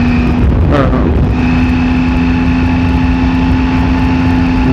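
A 2019 Triumph Tiger 800 XCA adventure motorcycle with a 21-inch front wheel rides steadily, its engine holding a constant loud drone with a steady whine over continuous road and wind rumble.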